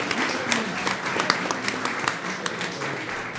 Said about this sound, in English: Let's give a round of applause again to Rogers Ranch STEM Academy.